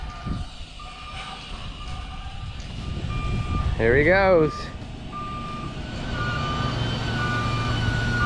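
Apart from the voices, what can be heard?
module truck reversing, hauling cotton module to gin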